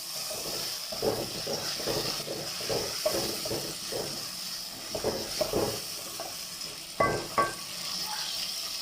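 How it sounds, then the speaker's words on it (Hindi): Tomatoes fry and brown in a pan for chicken biryani, a steady close sizzle with soft hiss and scattered stirring scrapes, a few louder clinks near the end. "चलिए टमाटर ब्राउन करते हैं, अच्छी तरह इसको भून लेते हैं टमाटरों को भी हम लोग"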